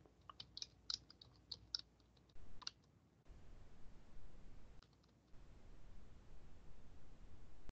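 Computer mouse clicks in sharp, quick bursts during keyword searching on a computer, several crisp taps early on, then a quieter stretch of faint background noise with a few isolated clicks.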